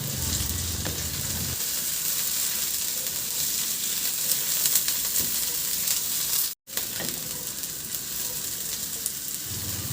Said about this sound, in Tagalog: Igisa ko na rin yung sibuyas.